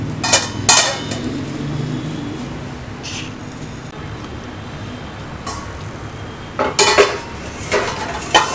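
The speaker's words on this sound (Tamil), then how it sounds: "இப்போ இதை வந்து மூடி போட்டு வேக வச்சிடலாம்" A lid set on an appam pan while sweet appam cooks on low flame gives bright metallic clanks and scrapes at the start and again near the end, with a quiet stretch between.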